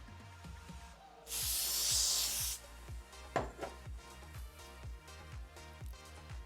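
Hair spray hissing onto a wig in a single steady burst lasting about a second, loud and close, over soft rhythmic background music.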